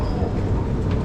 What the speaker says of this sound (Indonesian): Ini MRT baru ya.